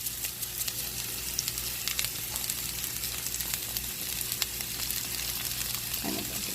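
Asparagus, zucchini and squash in olive oil sizzle steadily in a pan, a close, even crackle that continues without a break and with no talk over it.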